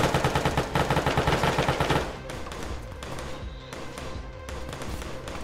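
Rapid, loud automatic gunfire in a first-person shooter game, a steady rattling burst for about two seconds, then a lower rumbling continuous fire with faint background noise.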